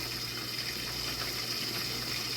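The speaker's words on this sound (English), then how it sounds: "Add some onion. And we're just gonna let that there boil" Water boiling steadily in a pot with onion added, a continuous even bubbling wash with a faint low hum underneath, no voices.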